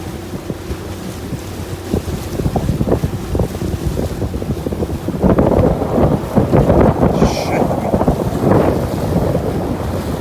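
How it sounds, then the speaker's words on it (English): A boat returns across a Scottish loch after a bumpy ride, with loud, constant wind buffeting the microphone, the hull slapping and rumbling on choppy water throughout. "Coming back in after quite a bumpy ride on the loch."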